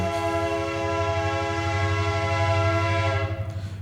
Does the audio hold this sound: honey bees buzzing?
no